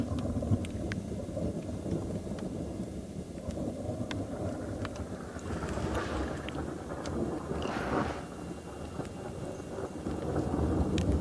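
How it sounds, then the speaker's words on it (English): Low rumbling thunder rolls across a broad wash of wind and outdoor noise as light rain begins, sustained and heavy, with no voices. "that thunder is, sure, really, really loud and all over the place"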